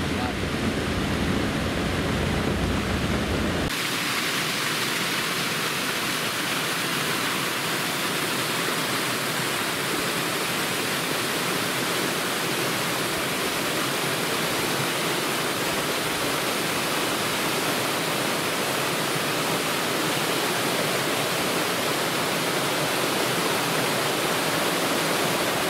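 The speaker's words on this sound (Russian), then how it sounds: "Вот он, водопадик красивый." Steady, dense rush of falling water from a small waterfall on the Chuna River, loud and continuous, with a brief change in tone at the very start.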